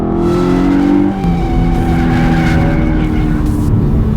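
A 2014 Hyundai Genesis Coupe with the 3.8L engine being drifted, its loud engine revving steadily with pitch shifts and faint tire noise, close and continuous throughout.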